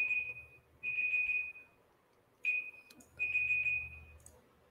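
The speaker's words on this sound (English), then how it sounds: "That was the alarm for the timer." A timer alarm beeps in a steady electronic tone, sounding in four separate bursts with short silent gaps between them, fairly faint against a quiet room.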